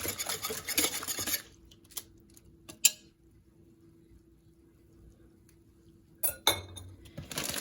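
Oatmeal mixture stirred in a dish, with a few light spoon clinks and scrapes near the start and end and quiet gaps between.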